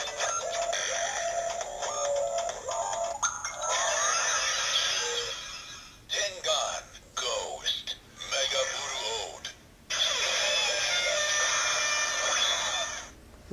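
A DX Mega Ulorder toy from Kamen Rider Ghost plays an electronic sound effect, bright synthetic tones and chimes that start and stop in several bursts, with a person speaking alongside.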